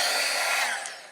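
Heat embossing tool blowing hot air to melt embossing powder, a brief, steady, close hairdryer-like whoosh with a high whine that eases slightly toward the end.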